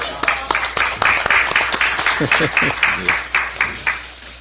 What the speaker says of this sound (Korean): 박수도 쳐드려야 되는데 아직 한 번도 안 했어요.